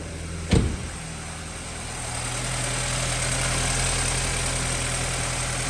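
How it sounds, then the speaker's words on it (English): A 2013 BMW 328i, just fitted with a new alternator, cranks with a sharp catch and settles straight into a steady, close idle that hums on evenly with no voices. "getting back in the car, trying to fire it up. Car's firing right up."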